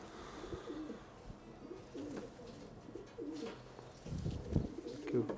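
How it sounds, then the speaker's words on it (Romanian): Breeding pigeons coo in soft, repeated throaty phrases, close by and fairly quiet, with a louder flurry of coos and rustling toward the end. "Porumbei foarte vitali."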